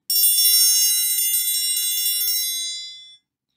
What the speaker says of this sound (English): If you're kind of straight up and down like this, you'll kind of hear